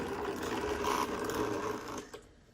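A faint, whiny brushed electric motor buzz from a Redcat RC lowrider car at slow speed, with rapid mechanical chatter, running steadily and then easing off.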